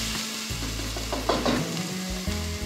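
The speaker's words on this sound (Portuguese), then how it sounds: "frite 3 dentes de alho picados. Uma cebola picada." Chopped garlic and onion fry in hot oil, a dense continuous sizzle with a few scraping stirs, close and fairly loud.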